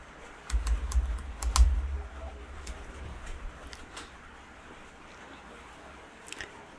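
Clicky computer keyboard typing, a burst of quick keystrokes early on that thins to scattered taps, fairly close and moderately quiet.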